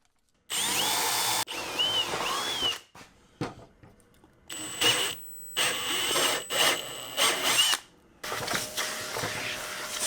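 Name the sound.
power drill driving screws through spacers into plywood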